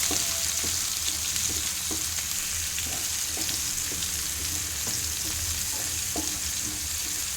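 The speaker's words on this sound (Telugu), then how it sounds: "ఆయిల్ హీట్ అయ్యాక కట్ చేసిన పచ్చిమిర్చి, ముందుగా కట్ చేసుకున్న ఆనియన్స్ ఇలా వేసుకొని లైట్గా రోస్ట్ చేసుకోవాలి." Cut green chillies and chopped onions frying in hot oil in a home kitchen, a steady soft sizzle with regular light stirring clicks, close and alone.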